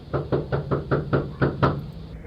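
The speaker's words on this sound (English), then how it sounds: "And he knocks." Seven evenly spaced knocks on a house door, close and firm in a steady rhythm, with a faint steady hum behind.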